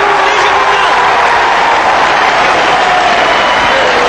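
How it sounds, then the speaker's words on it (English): An arena crowd at a wrestling bout roars and applauds the wrestler Steve Veidor in the ring, making a loud, continuous wash of cheering and clapping with a rising tone running through it. "give a magnificent round of applause for the wrestler in the ring, Steve Veidor"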